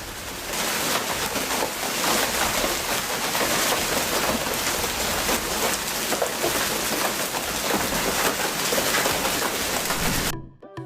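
Hail pounding down, a dense loud hiss of countless impacts striking at once, steady for about ten seconds before cutting off sharply.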